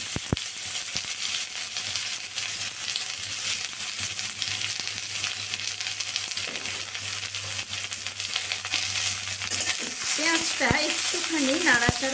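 Chopped onions frying in a small amount of hot oil for a home-style prawn pulao, giving a steady, close sizzle throughout with occasional stirring scrapes and a few clinks toward the end.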